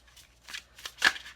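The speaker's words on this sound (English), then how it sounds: "Let me shuffle these back in." A deck of tarot cards is shuffled in a few quick riffling bursts, close and crisp, with the last burst the loudest, and no talking.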